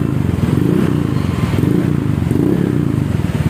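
A Honda ADV 150 scooter fitted with a PCX160-style aftermarket exhaust runs close by, its engine giving a steady, loud, throbbing drone throughout with no talk over it.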